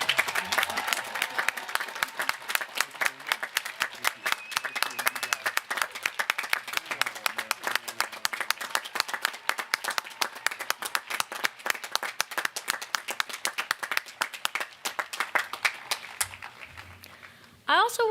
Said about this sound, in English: give one more very grand round of applause for our own Professor Brian Murchison